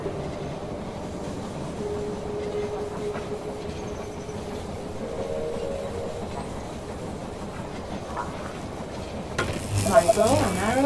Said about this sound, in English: Train has arrived at the station.